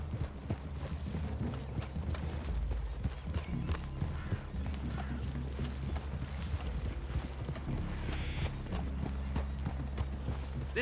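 Horse hooves clip-clop steadily at a walking pace in Red Dead Redemption 2, close by, with a low rumbling background and no talking.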